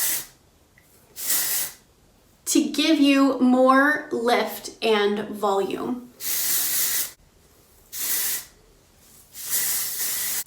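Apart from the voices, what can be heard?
texturizing hair spray being sprayed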